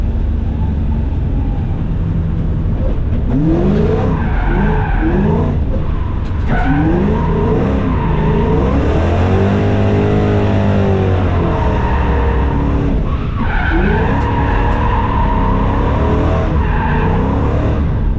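A drift car at a French drift championship round at Val d'Argenton, its engine loud and close as tires squeal in long wavering screeches, revs rising and falling through the slide, with no speech.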